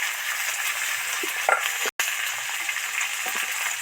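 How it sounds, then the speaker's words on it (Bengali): Potato pieces and tomato fry in hot oil, a steady sizzle with a few soft scraping stirs and a brief dropout partway through. "এবার আলু টুকরোগুলো তেলের মধ্যে আগে দিয়ে দেব দিয়ে দিলাম আর টমেটো এর সাথে দিয়ে দিলাম"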